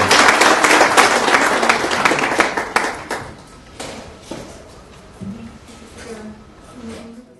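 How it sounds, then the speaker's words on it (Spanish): Applause for a doctor at a national breast-surgery congress session, a dense burst of clapping from the audience that fades over the first few seconds into scattered claps and murmuring voices. "Le damos un aplauso al doctor."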